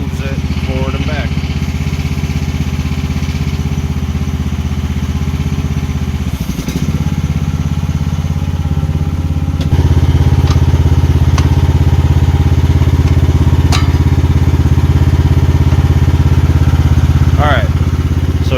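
A machine engine restarted after stalling runs as a steady, loud, close drone, with a slight rise in level partway through and some faint clatter on top.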